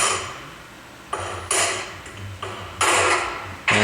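Hammer blows drive a viscous coupler out of a Toyota Matrix AWD rear carrier, five or six sharp metallic strikes in an uneven rhythm, each with a short ringing decay, no talking.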